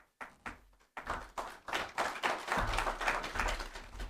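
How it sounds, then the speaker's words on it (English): A conference audience applauds at an opening session in Sarajevo, a few scattered claps at first that swell into fuller, steady applause. "You guys clapped before I made my remarks"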